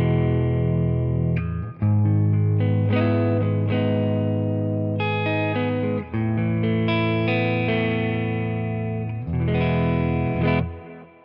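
Clean electric guitar played through a Nano Cortex preset using a Tone King Imperial clean amp capture, a Fender-style clean tone; sustained chords and picked notes ring out steadily for about eleven seconds with brief gaps, loud and alone.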